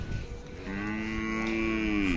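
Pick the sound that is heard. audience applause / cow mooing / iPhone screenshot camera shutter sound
cow mooing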